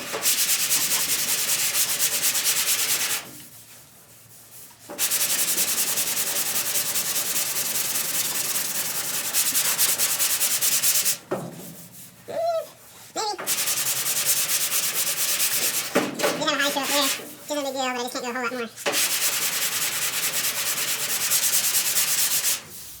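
Block sanding of primer on the body of a 1968 Camaro, a steady close scraping rub that runs in long strokes with a few short pauses between passes, heard alone.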